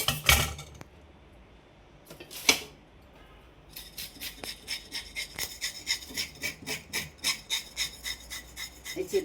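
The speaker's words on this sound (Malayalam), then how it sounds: "ഈ ചിതമ്പലെല്ലാം നന്നായിട്ട് പോക്കി കഴിഞ്ഞിട്ട് കട്ട് ചെയ്യുന്ന കാണിക്കാം." A knife scrapes scales off a silver pomfret, starting with a few isolated strokes and pauses, then settling into a steady run of quick, rhythmic rasping scrapes, close and fairly quiet.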